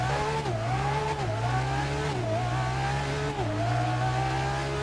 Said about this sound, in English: Here you notice I'm braking, shifting down with the X button